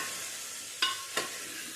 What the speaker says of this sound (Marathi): जेव्हा आपण कुकरमध्ये भाज्या करणार आहोत ते परतण्यासाठी लांब दांड्याचा डाव किंवा झारा घ्यायचा